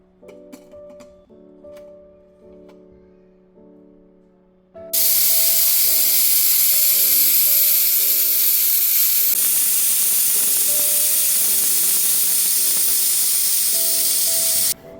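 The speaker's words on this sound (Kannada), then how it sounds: "ಇವಾಗ 5 ವಿಷಲ್ ಆಗಿದೆ." A pressure cooker on the stove vents steam while cooking temple-style sambar with vegetables and MTR sambar powder: after a few quiet seconds, a loud, sustained hissing blast runs steadily for about ten seconds, with faint tonal music underneath.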